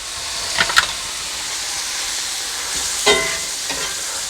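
Onions and spinach for a frittata fry in a pan with a steady close sizzle and hiss. A few brief clinks of stirring cut in and out.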